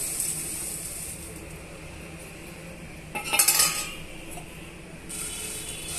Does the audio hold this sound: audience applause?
no